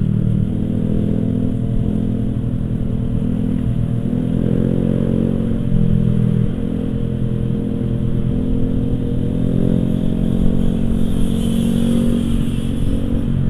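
A Honda CBR four-cylinder motorcycle engine runs loud and close, a dense rumbling idle with mild rises in revs but no sharp high climbs.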